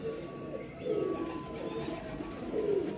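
Cheena pigeons coo softly in a steady, close, low murmur that swells twice, with no talking.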